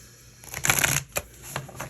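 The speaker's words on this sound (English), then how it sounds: "so let's pull some more cards" Tarot cards being shuffled close up, a few quick riffling bursts and soft flicks of the deck over about two seconds, quiet and alone with no talking.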